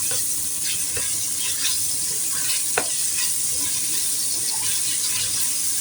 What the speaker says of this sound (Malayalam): കുറച്ചെണ്ണ ഒഴിച്ച് ചിക്കൻ വറുത്തെടുക്കുക